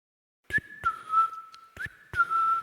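A clear human whistle imitates birdsong in a few drawn-out tones with short breaks between them, close and alone in a quiet room.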